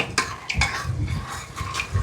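Cooked green gram dal for sambar is mashed inside an opened pressure cooker, with a few sharp metal clinks and scrapes of the utensil against the pot, close and fairly quiet.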